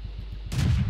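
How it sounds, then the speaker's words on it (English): A sudden boom of flak cannon fire bursts in during a World of Tanks match, a single sharp, loud blast following low rumbling game noise. "There's flak cannons everywhere"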